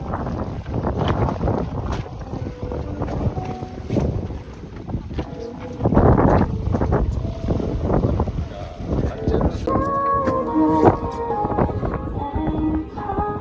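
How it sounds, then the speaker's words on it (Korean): A fishing boat rocks on strong waves off Sokcho in winter, with continuous wind buffeting, creaking and water rushing against the hull, and voices heard intermittently. "오, 파도 완전 세."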